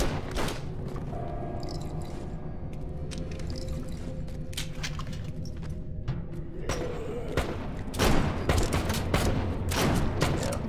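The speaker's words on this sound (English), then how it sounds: "I can shoot it like it's a semi-automatic" Rapid semi-automatic gunfire in the shooter game You Are Empty, a run of sharp repeated shots over a steady game background, loudest in a dense burst near the end.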